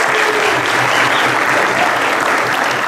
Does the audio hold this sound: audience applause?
yes